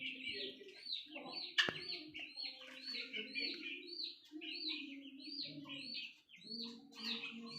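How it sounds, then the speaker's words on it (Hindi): Chickens in a wire-mesh coop, including a hen sitting on eggs, make soft, low, repeated clucking mixed with higher short chirps. The calls are quiet and close, with a brief knock partway through. "ये खूबसूरत मुर्गा है माशाल्लाह।"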